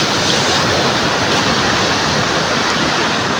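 Ocean waves wash onto the beach at Morong, Bataan in a constant, loud, hissing roar of surf with no clear pauses between breakers, and no voices.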